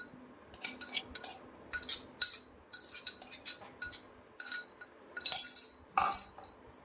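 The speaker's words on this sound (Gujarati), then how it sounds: "થોડીક એવી હળદર મસ્ત મજાને મિક્સ કરી દઈશું" A metal spoon stirs gram flour batter with turmeric and onion-green chili paste in a bowl, giving irregular clinks and scrapes against the bowl in short bursts, close and unaccompanied by talk.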